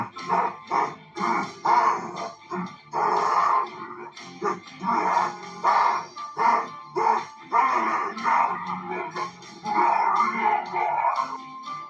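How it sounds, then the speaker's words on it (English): Rhythmic, throaty growls and snarling bursts from an animatronic alligator in Five Nights at Freddy's repeat steadily, close and loud, with an animal-like, mechanical edge and no clear words. "He can be seen snapping his jaws wildly and growling incoherently."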